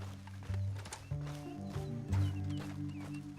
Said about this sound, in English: that sure is Shane Finley coming off the back of his horse